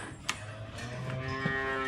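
Dairy cows in a barn low out with a few deep, drawn-out moos at feeding time as silage is handed out, the calls close and fairly loud over a steady barn hum.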